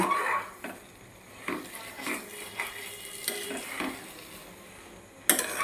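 Semolina halwa is slowly stirred in a pan, with repeated soft scraping strokes every second or so over a quiet sizzle, ending in a sharp metallic clank.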